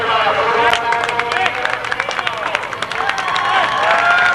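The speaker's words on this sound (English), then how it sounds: "The crowd goes wild as American prepares to take the field" Crowd at a 1997 American University versus UVA game cheering and clapping, a loud close mix of whoops, shouts and applause with scattered chatter throughout.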